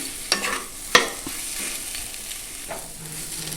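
Boiled potato filling for egg paratha being stirred in a sizzling pan, with a few sharp scrapes of the spoon against the metal over a steady low frying hiss.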